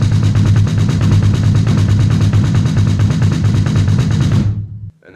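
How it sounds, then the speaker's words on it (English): Double bass drum played by the feet in fast continuous 16th-note sextuplets, a dense, heavy, rapid stream of low thuds at steady loudness that stops abruptly near the end, close and alone. "The feet are playing 16th note sextuplets, four of them, so you're going to be playing something like this with your feet."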